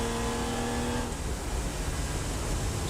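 A ChampCar endurance race car at Watkins Glen eases back onto the throttle, its engine drone shifting from a steady tonal whine into a broader rough roar, loud and close, with no talking.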